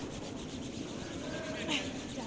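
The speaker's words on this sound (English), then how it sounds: "a trio of sweepers trying to help out this stone from China" Curling sweepers, a trio of them, brushing hard in front of a sliding stone during a China versus U.S. televised match, a steady broadband scrubbing rub with arena ambience and no talk.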